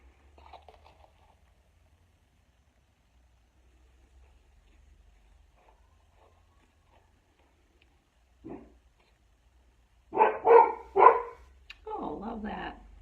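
A dog barks a few times in the distance, short sharp bursts heard near the end, with quiet background and soft talk nearby earlier.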